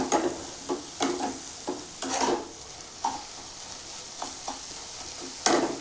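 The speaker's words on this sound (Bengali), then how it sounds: "দেখো বন্ধুরা, আমি কি করছি না, ডিমটা দিয়ে ভালোভাবে নাড়াচাড়া করছি।" A spatula scrapes and stirs egg in a frying pan for an egg and pumpkin roast, with a run of irregular, close scraping strokes over a soft, continuous sizzle and no talking.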